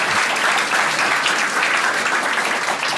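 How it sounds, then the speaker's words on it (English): A comedy club audience breaks into dense, sustained applause, loud and even throughout with no talking over it. "See, you can clap."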